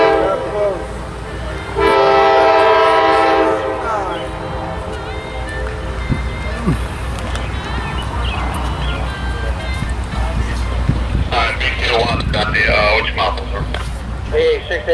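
CSX freight train led by locomotive 465 with a helper passes close by, its horn blasting loudly for a couple of seconds before the rolling rumble and wheel noise continue, with a second horn burst later and people talking over it.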